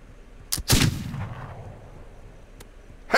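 Gunshots in a video game, a loud nearby shot with a booming echoing tail, followed by a faint distant crack and another sharp shot at the end.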